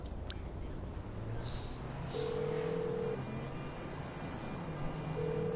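A phone call to the mechanic's garage in GTA V: quick dialing beeps and then steady ringback tones, faint under low background noise.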